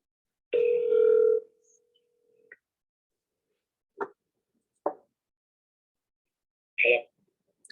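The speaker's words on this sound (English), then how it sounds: "Let me just get him on the phone." A steady telephone dial tone hums for about a second, followed by a few short blips and clicks of a phone line connecting, with long silences between.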